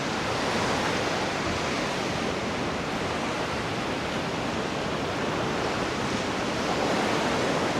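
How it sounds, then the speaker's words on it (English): Steady broadband roar of ocean surf at My An Beach in Da Nang, Vietnam, waves rushing continuously without a break, loud and close with a little wind, no voices. "those waves are good"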